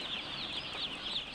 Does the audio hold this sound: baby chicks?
yes